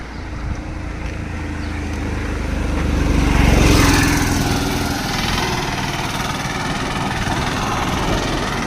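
An auto rickshaw engine runs steadily nearby, its rumble swelling a little as if passing closer, then settling back into a continuous drone.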